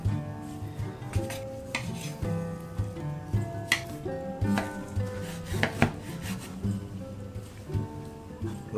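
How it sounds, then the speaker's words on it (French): Knife chopping smoked bacon on a board, rind removed, cutting slices and lardons about 1 cm thick: repeated sharp chops with scraping and clinks of utensils, close and alone. "Je vais alors couper le lard fumé."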